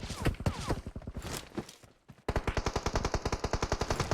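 Rapid automatic gunfire in PUBG Mobile, loud bursts of closely spaced shots, a brief lull near the middle, then a steady fast volley of near, punchy rounds to the end.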